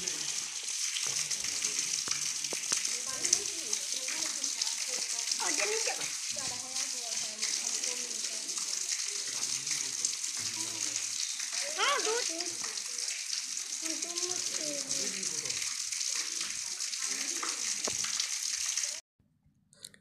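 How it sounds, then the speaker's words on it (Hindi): Water runs steadily into a natural, spring-fed pond on a hilltop at the Turturiya Matagarh temple site. The rush is continuous and close, with someone talking over it, and it cuts off abruptly near the end. "यही है कुंड जो पहाड़ के ऊपर से हमेशा पानी आते रहता है"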